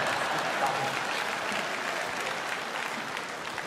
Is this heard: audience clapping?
yes